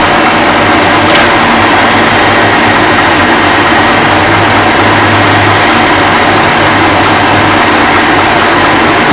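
A metal lathe runs continuously through a light cut, giving a loud, steady mechanical hum with a faint whine and a brief tick near the start, with no talking.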